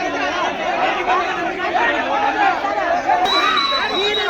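A crowd of angry movie fans shouts and chatters outside a theater at a film premiere show as police arrive, a dense, steady wall of overlapping voices with no pauses throughout.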